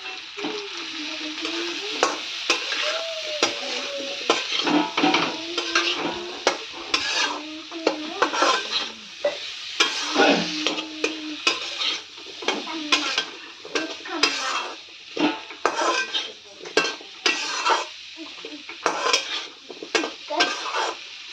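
A jackfruit seed curry seasoned with salt and garam masala is stirred in a pan, with a spoon scraping and clinking against the metal in repeated strokes over a low sizzle, close and steady with no talk.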